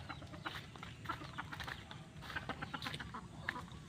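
Hungry grown chickens clucking softly around a farm pen, scattered low clucks and chatter, fairly faint and at a middle distance.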